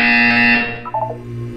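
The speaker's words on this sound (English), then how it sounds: "You will hear a buzzer." A loud, sustained electronic buzzer tone from the video game Portal 2 holds steady, then cuts off, leaving a lower hum with a short warbling tone, signalling a mandatory physical wellness exercise.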